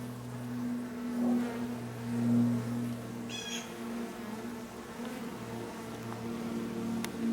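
Honey bees drone around a hive's inner cover during a September inspection in New England, a low steady buzz with tonal hum layers, close and continuous, with no talking.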